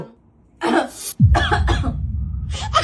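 Someone coughs several times in a rough, throaty fit, with breathy sounds and some speech mixed in.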